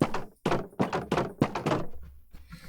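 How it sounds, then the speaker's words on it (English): Minecraft trapdoors and fence gates closing: a rapid series of about six sharp wooden thunks and knocks, close and loud, then a quieter tail. "And then trapdoors and fence gates now sound like this."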